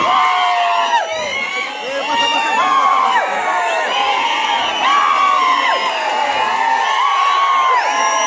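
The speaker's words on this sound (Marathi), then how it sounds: "प्रचंड अशा टाळ्यांच्या कडकडाटाने आपण स्वागत करायचं" A large outdoor crowd cheers and shouts without pause at a campaign rally for Omraje Nimbalkar by the Gandhi statue. Voices and whoops overlap into a loud, steady roar.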